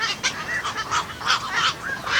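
Night herons call in a nesting colony at night on a Ukrainian wetland meadow: a series of harsh, honking croaks from several birds, overlapping irregularly at moderate distance.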